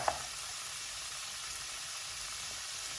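Rice noodles frying in a pan, a steady, even sizzle with a soft hiss that holds throughout, with one small tap right at the start and no talking.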